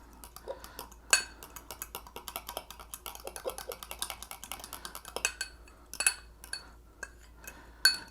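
A utensil clinking against a container while mixing rehydrated freeze-dried milk, a quiet, close series of irregular light taps with a few sharper clinks.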